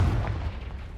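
A Confringo fire spell goes off in a video game as one short, booming blast that starts loud and fades into a quick rumbling decay.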